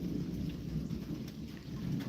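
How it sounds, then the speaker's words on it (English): Thunder rumbles low and steady under rain from a storm moving in from the southwest, a continuous wash of rainfall with thunder rolling beneath it and no one speaking. "storm coming in"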